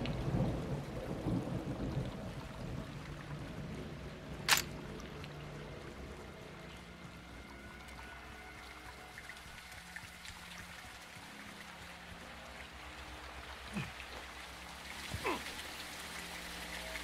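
Heavy rain pours steadily in a Call of Duty: Modern Warfare II campaign mission, with a sharp thunder crack early on and more distant rumbles later, no voices over the downpour.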